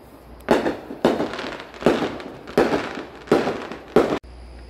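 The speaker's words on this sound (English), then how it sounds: "Hero and Sweetie are really scared of the fireworks, so they had to come inside." Fireworks go off outside a beach house: six sharp, loud booms with crackling tails, spaced about a second apart.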